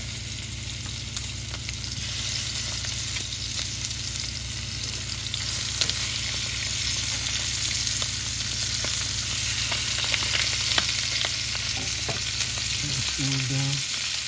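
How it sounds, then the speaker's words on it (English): Chicken pieces frying in a couple of tablespoons of oil in a skillet, a loud, continuous close sizzle and crackle with faint scattered pops and a brief clunk near the end. "So I have my skillet with a couple of tablespoons of oil. I'm gonna go ahead and just get some color on these."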